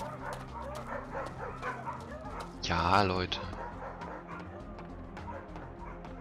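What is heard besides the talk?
dogs barking in video game Two Worlds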